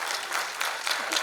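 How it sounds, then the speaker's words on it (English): Audience applause fills a trailer launch event for Amazon Prime's Guilty Minds, a steady dense wash of clapping with a few swelling peaks, loud and continuous throughout. "Can I please request all of you to give them a wonderful round of applause?"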